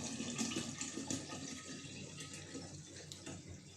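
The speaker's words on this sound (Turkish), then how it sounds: "Suyumuzu da hemen koydum içine." Drinking water pours steadily into a container being filled for homemade pomegranate vinegar, a continuous close splashing rush lasting a few seconds with no voices.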